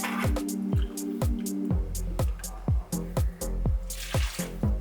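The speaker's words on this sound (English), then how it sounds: "Gonna do a quick little rinse in here with the leftover hot water, just to heat it up a little bit." Leftover hot water sloshes and drips inside a French press being rinsed to warm it, a close, steady liquid gurgle with a rhythmic series of splashing pulses, no talk heard.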